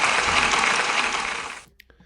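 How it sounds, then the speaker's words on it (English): A crowd of pupils and staff at a school celebration gives a dense burst of clapping, loud and close, which fades out sharply after about a second and a half. "Can we give Jacob a big round of applause"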